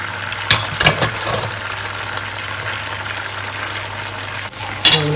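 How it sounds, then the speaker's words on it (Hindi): Tagliatelle pasta added to a pan of cooked tomato sauce with dried tomatoes and Greek cheese, giving a steady low sizzle and bubbling with a few utensil knocks and scrapes at the start and end. "अब हमने इसमें पास्ता तैगले तेले डालना है।"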